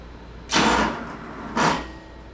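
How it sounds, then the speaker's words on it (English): A car engine cranks over on a weak starter in two separate, labored bursts with a short pause between, fairly close and without firing. "The engine didn't sound good turning over."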